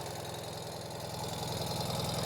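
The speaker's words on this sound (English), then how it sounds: "All we have to do is just hit the start button. And look at that, starts right up." A 2025 Ural Gear Up sidecar motorcycle engine idles just after starting, a steady low, pulsing throb with a regular beat, fairly quiet and close, with no voices.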